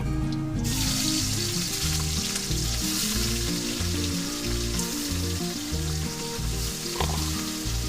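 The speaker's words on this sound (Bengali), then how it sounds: "এগুলো সুন্দর করে লাল লাল করে ভেজে নেবো" Bata fish frying in hot oil, a loud, steady sizzle that fills the whole stretch close up, with a few faint stirring clinks underneath.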